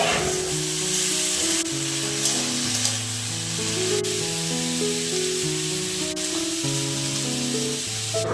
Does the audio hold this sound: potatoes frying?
yes